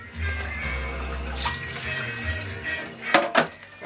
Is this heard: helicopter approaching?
no